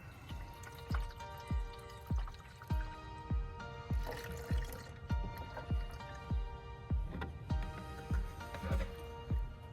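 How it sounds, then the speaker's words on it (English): Windshield washer fluid being poured into a car's reservoir, a regular glugging and trickling with evenly spaced bubbly pulses as liquid fills the container, close and clear with no voices. "carefully pour some into the reservoir until it is about 2 inches from the top"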